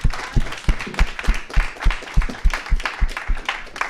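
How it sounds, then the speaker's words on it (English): Audience at a tech internship and career panel applauding the panelists, a loud, steady round of clapping with many hands overlapping throughout. "Let's give our phenomenal panelists a round of"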